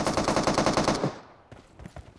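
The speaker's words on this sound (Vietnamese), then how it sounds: "Lâu lắm rồi mới bắn K98 này." Gunfire in PUBG Mobile on a snowy island map where a K98 rifle is in use: a rapid, loud burst of close shots for about a second, then a fading tail and a few scattered softer reports.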